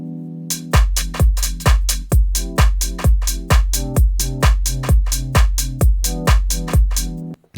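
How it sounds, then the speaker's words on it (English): A soloed electric piano plays a 2-5-1 chord progression on an MPC, with rhythmic, evenly pulsing chord stabs that pump with sidechain-style ducking, loud and close with no talk. "what we're going to do is divert our attention to the 251 E piano chord progression"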